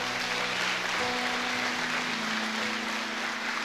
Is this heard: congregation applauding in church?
yes